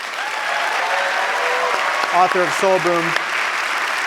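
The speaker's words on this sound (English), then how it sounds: "Please give a round of applause to Rainn Wilson" Audience applause for actor Rainn Wilson, author of Soul Boom, at an evening talk with a guest: a steady wash of clapping that fills the clip while someone speaks over it.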